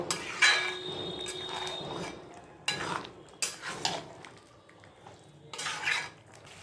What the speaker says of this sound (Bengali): এবারে আমি মাংসটাকে কষিয়ে নেব।